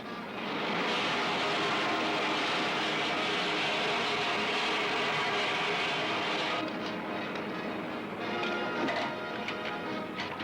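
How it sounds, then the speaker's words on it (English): Steady, loud propeller aircraft engine drone that holds for about ten seconds, rough and continuous, with a slight change in tone partway through as the plane comes in to land in a 1953 sci-fi serial. "Veer to the right, Ted. Land beyond that next range of hills."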